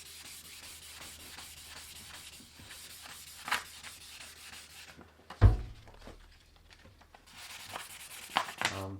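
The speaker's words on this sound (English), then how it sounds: "doing this type of sanding should hopefully alleviate a lot of the extra lines" Hand sanding of a wooden body from an 8-string guitar kit before staining: repeated rhythmic rasping strokes of sandpaper over wood, fairly close, with a brief knock and pause midway before the scrubbing resumes.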